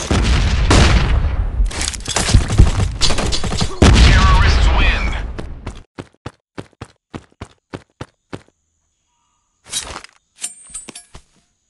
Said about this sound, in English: Grenade out! Flashbang!